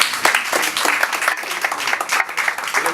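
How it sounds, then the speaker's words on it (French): An audience at a diploma ceremony for hostesses applauds the company's director general, a loud, close burst of clapping from a crowd with uneven rhythm and swelling peaks, with a little talk underneath. "je voudrais vous demander de bien vouloir applaudir le premier responsable"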